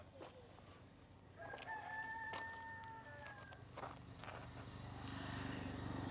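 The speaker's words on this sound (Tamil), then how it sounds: "கோழி வெளியிலே மேய்ஞ்சிட்டுருக்கு." A rooster crows once at mid-distance among chickens grazing outdoors on a mixed fruit farm near Redhills, the long drawn-out call rising over a steady low background hum.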